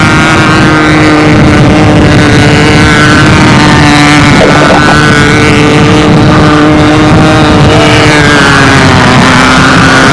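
A pylon racing model airplane engine at a national championship event drones loudly and continuously, its high whine shifting in pitch as it passes, with strong wind buffeting the microphone.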